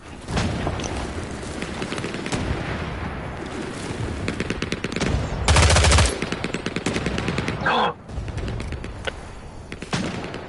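Constant machine-gun bursts and rifle fire crackle during a tank battle in Hell Let Loose: Vietnam, loud and dense. A heavier blast rumbles midway and is followed by more rapid firing.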